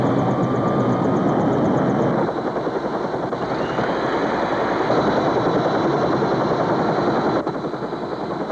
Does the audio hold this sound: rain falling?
no